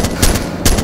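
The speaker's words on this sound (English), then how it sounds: "Machine gun" Rapid machine gun fire in the military shooter Arma II: Operation Arrowhead, loud and close, with two dense bursts of rattling shots.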